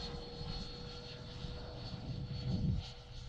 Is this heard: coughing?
no